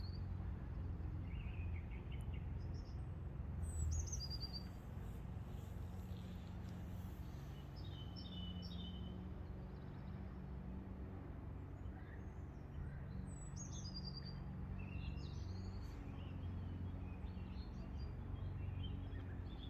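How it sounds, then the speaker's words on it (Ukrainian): Faint, distant birdsong with scattered chirps over a constant low rumble of background noise, like traffic far off. "пташки співають."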